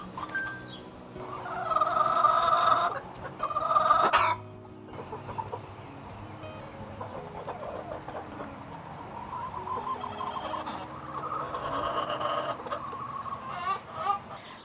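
Backyard garden chickens cluck close by in loud bursts of rounded calls, pausing briefly before settling into a steady run of softer chatter with a few sharper squawks near the end.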